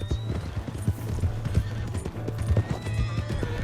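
A horse gallops with fast, rhythmic clip-clop hoofbeats and whinnies in Red Dead Redemption 2, with the hooves loud and close throughout.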